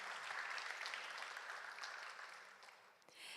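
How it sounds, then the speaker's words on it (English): Faint, distant audience applause for students at a student film festival senior awards ceremony, a continuous wash of clapping that slowly thins out before a brief swell at the end. "Round of applause for those students."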